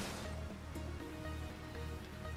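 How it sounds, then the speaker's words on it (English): A waterfall in the video game Ratchet & Clank (2016) on PS4 gives a steady, quiet wash of falling water, mixed with a low pulsing game hum and soft background effects. "Okay, so we got the waterfall up here."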